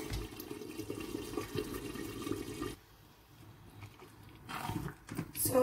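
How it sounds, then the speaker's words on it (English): Dry rice poured into a pot of jollof stew gives a steady, close hiss and rush of grains for about three seconds, then a pause with soft scraping and clatter, with no talk. "pour the rice inside"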